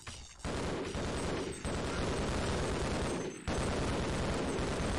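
Gunfire in the video game Half-Life: Opposing Force, set in sewers, as dense, continuous rapid shooting that roars loudly with brief breaks between long bursts.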